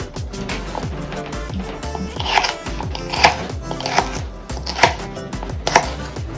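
Celery stalks chopped with a knife on a cutting board, a quick run of crisp, sharp chops in an uneven rhythm, close and clear with no talking.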